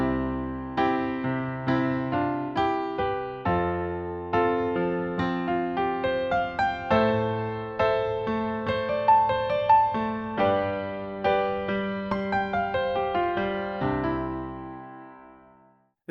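A basic chord progression dressed up with walk-ups, runs and fills rings out as a steady stream of struck, decaying notes and chords, played alone and fading at the end.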